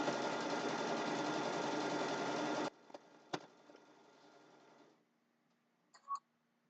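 A sewing machine stitches a quilt border in a steady, even hum for under three seconds, then stops, followed by a few faint clicks and light handling sounds.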